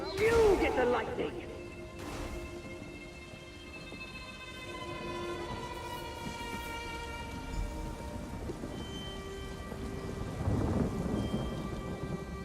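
Thunder and heavy rain in The Elder Scrolls Online, a crash of thunder opening into a steady rain roar, with a deep rumble building again near the end over sustained tonal game sounds.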